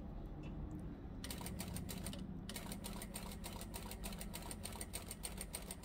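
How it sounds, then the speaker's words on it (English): A sewing machine runs a quarter-inch seam around a fabric edge in a steady, rapid mechanical chatter, close and continuous with a brief pause near the start, with no talking. "I'm just using my hand as a guide to sew around."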